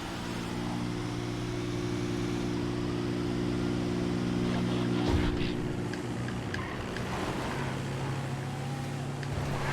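A Dodo plane in the GTA FiveM game drones on steadily with a tonal engine hum under wind-like noise, holding a constant pitch that dips briefly midway.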